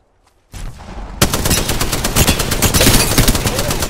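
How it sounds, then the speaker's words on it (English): Dense automatic gunfire in a battle royale game erupts after a brief rustle, loud rapid bursts of shots continuing without pause, with voice lines barely present. "Shooting at me."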